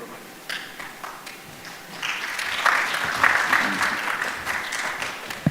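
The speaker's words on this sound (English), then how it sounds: "Let's give him another clap" Audience applause at an agricultural talk event, clapping rising after two seconds into a steady, moderate round that carries on to the end.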